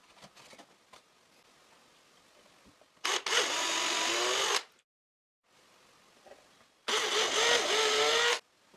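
A power drill drives anchor screws through an insert plate into plywood strips on a homemade router table, two loud whirring bursts of about a second and a half each, separated by quiet pauses.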